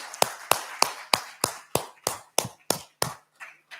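A single pair of hands clapping about ten times in a steady rhythm, close and crisp, at a conference inaugural session; the claps are isolated rather than a full crowd applause.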